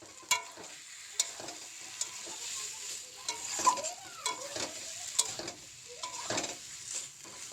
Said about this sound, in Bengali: শুধু কুমড়ো চচ্চড়িটা আর কি হচ্ছে কড়াইতে।